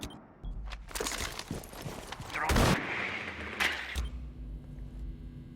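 A video game match fills with bursts of gunfire and a loud explosion in the middle from thrown grenades, sharp cracks and booms rising and fading over a few seconds, with a commentator's voice underneath.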